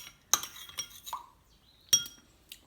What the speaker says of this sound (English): Give that all a good mix and just have a taste.